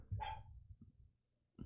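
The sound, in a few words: dog barking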